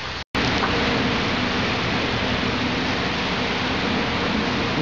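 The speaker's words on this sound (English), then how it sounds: "You see the little pieces of hail as they bounce off the park bench." Steady hail rattling down outdoors and bouncing off a park bench, a dense, even patter that stays loud and constant after a brief dropout at the start, with no talking.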